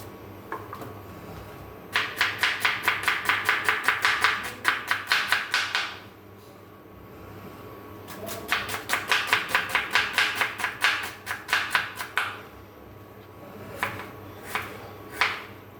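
A knife slices onions very thinly on a cutting board in quick, even bursts of close, crisp chops, two long runs separated by short pauses, then a few scattered strokes, with no talking.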